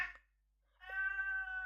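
A female cat gives a single clear, drawn-out meow at close range, following a brief softer chirp and a short quiet pause.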